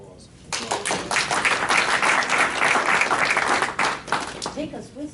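An audience at a meeting breaks into steady applause that lasts several seconds, dense and close, fading at the end as speech resumes.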